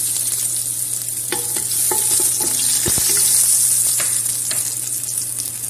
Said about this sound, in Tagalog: magpainit na tayo ng mantika sa ating biryani.